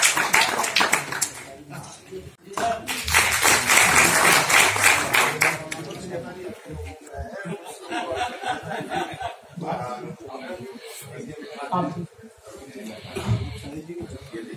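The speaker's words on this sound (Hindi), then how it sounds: "सब लोग ताली से स्वागत करें" Audience at an anniversary and award ceremony of a crime-prevention organization breaking into a loud burst of applause lasting a few seconds, then fading under a speaker's voice and some chuckles.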